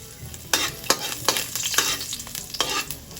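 Ginger fries in a little oil in a pan, a soft sizzle broken by several sharp stirring scrapes and taps of a utensil, close and without talking.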